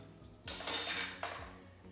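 A metal measuring spoon clinks and scrapes against a bowl while sugar is measured in a kitchen, two quiet close knocks with faint rattling between them.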